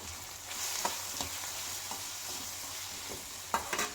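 Spices fry in oil in a pan for a broccoli side dish, giving a soft continuous sizzle with scattered light stirring taps and a couple of clearer knocks near the end, no speech.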